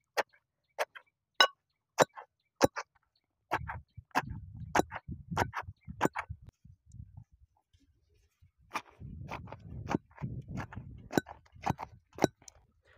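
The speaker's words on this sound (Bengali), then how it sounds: "ধনে পাতা কাঁচা লঙ্কাটাই একটু ম্যাশ করে নেবো।" Jujube being mashed by hand with coriander leaves and green chili in a village kitchen: sharp, irregular clinking taps against a bowl, with bursts of softer squishing and rubbing in between, close and fairly quiet.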